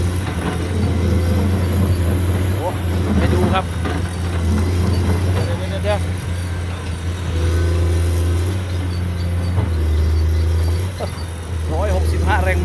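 A Komatsu PC210-10MO excavator's heavy 165-horsepower diesel engine rumbles loudly and steadily, surging now and then, while people talk over it.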